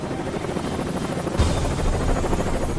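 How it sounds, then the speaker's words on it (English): A squadron of Marine Corps helicopters flies overhead, its rotor drone loud, close and constant, with a slight surge partway through and no voices. "a squadron of Marine helos are deploying to meet the President at a school in New Jersey"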